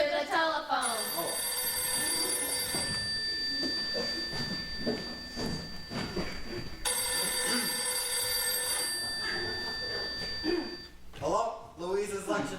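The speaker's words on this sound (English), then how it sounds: "Answer the telephone." An old telephone bell rings in two long bursts, loud and close, while people talk over it.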